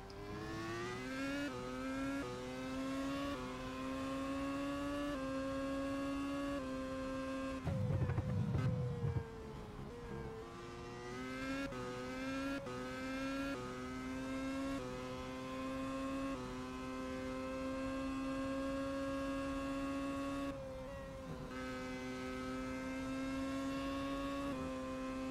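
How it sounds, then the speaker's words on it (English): Racing engines in a video game scream and rise through the gears, pitch climbing and dropping with each shift, plus a brief rumbling burst midway; continuous, loud, no voices. "a short pause there just to appreciate the sheer sound of these cars"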